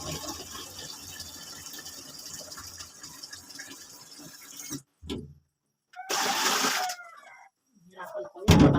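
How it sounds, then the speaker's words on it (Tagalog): A bucket is filled with water from a tap in short bursts, a steady splashing pour broken by pauses, faint under background noise. "Lagyan muna natin ng tubig."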